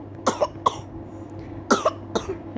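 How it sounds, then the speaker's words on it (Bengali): A child with a cold coughs in four short, separate bursts, close and fairly loud, with a low background hum between them. "আমার ছেলে হচ্ছে কাশতেছে"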